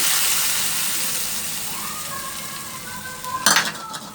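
Chopped onion frying in hot oil in a pan for a tadka to top lentil rice, giving a steady close sizzle throughout with a brief clatter of a utensil against the pan near the end.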